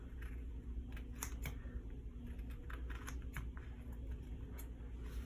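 Paper being trimmed for a planner weekly spread gives crisp, irregular clicks and snips over a steady low background hum.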